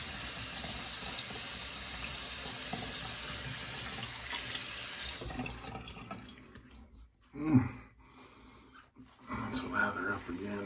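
A bathroom tap runs steadily while a shaving razor is rinsed under it, the water hiss filling the first half before fading, followed by brief clinks and a short spoken remark.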